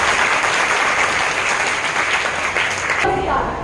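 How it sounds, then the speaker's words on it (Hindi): A school assembly audience marking Hindi Language Day claps loudly to welcome a ninth-grade student, a thick sustained burst of clapping that tapers off near the end. "जोरदार तालियों से स्वागत करें"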